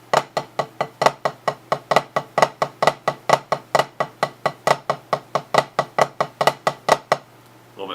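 Snare drum flam taps played in a steady grouped exercise, about two dozen crisp even strokes in a continuous rhythm, close and alone with no talking.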